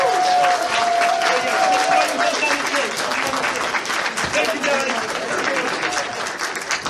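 An audience at a furry convention improv comedy show gives a loud, sustained round of applause, dense clapping filling the whole stretch while a performer speaks briefly over it.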